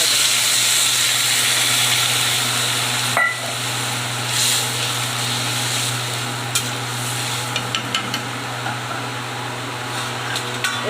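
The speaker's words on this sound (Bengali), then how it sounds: "এবার ভাজা হয়ে গেছে, জল ঢেলে দেবো।" Water is poured into a pan of hot frying potatoes and green chilli with tomato for a pabda fish curry, giving a loud, steady hiss and sizzle that carries on under faint stirring clicks, with no talk.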